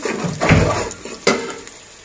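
Onion frying in a pan for a bottle gourd and snakehead fish curry, with a steady sizzle and two sharper bursts of stirring or scraping, close and fairly loud, no talking.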